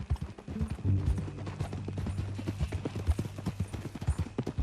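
Horse hooves clip-clop at a steady walking pace in Red Dead Redemption 2, close and distinct, with a low mechanical hum and faint voices beneath the rhythmic footfalls.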